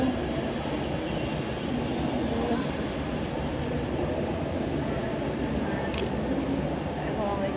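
Train pulling into Uttara railway station: a continuous heavy rail rumble and clatter of carriages, loud and near, holding steady throughout with faint voices mixed in.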